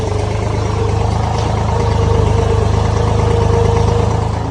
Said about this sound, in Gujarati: જો આ ટ્રેક્ટર